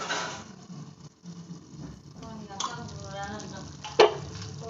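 Squid gravy being stirred in a pan, a soft scraping and bubbling that runs steadily at close range with one sharper clink near the end and no talk.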